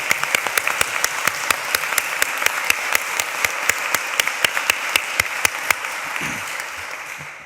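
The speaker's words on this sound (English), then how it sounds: "A round of applause, I think." Graduation ceremony audience applauding in a chapel, a steady wash of clapping with one sharp, regular close clap cutting through it throughout, then trailing off near the end.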